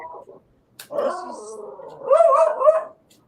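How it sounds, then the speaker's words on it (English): A dog barks and yips in a few short bursts, then gives a longer, louder whining bark, close by and with no talking. "My dog's barking when your dog's barking."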